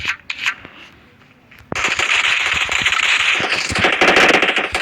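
Gunfire in the mobile game PUBG Mobile: a few scattered shots, then after a short lull a sustained loud rapid burst of automatic fire with crackling impacts that keeps going to the end.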